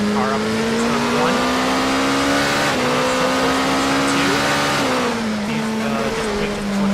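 A race car's engine drones loud and steady, pitch climbing through the gears with brief shifts, on a lap of the Tokachi circuit into turn one, with a voice talking over it.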